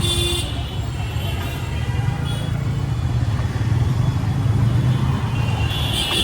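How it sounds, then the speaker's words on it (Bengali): A traffic jam on a busy Dhaka city road gives a steady roar of engines with brief car horn toots, heard from inside a moving vehicle with no voices. "রাস্তা তো এদিকে জ্যাম আছে অনেক"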